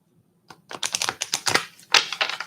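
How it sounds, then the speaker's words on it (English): A deck of rune reading cards being shuffled, a fast run of crisp riffling flicks and taps close by with a brief pause partway, no voices. "I'll shuffle these one more time."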